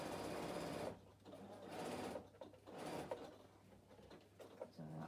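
Sewing machine stitching steadily at close range, its motor whirring in bursts with brief pauses between runs of stitches.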